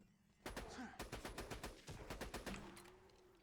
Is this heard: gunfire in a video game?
yes